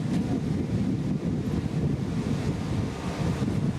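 Wind at sea on a sailing ship, a steady dense rumble of gusting air and water noise buffeting close to the microphone, continuous and fairly loud, without any voices.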